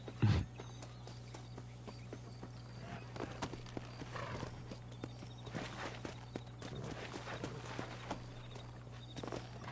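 Horse hooves clip-clop in the Red Dead Redemption video game, quiet irregular hoofbeats with a brief knock at the start, set against a steady low hum.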